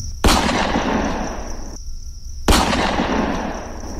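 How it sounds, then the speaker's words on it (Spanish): Two sharp, loud gunshot sound effects about two seconds apart, each a sudden crack trailing into a hissing, reverberant decay over a steady background tone. "Así que se repitió el fogonazo, y disparó una y otra vez."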